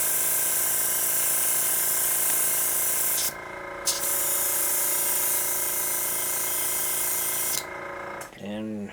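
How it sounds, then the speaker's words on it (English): An airbrush hisses steadily in long continuous passes with brief breaks, spraying paint onto a model, close up, followed by a short voice at the end. "So just gonna spray it on until we get nice even coverage."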